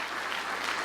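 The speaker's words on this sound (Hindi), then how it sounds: "इतनी हल्की तालियां।" A short burst of soft, distant applause rises from a small audience at a direct-selling motivational talk, faint and thin throughout.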